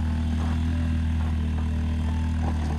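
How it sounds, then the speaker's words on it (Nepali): A steady, loud engine drone with low rumbling hum throughout, like a motorbike running close by on a rough road, with faint rattles. "बाइक जाँदैछ"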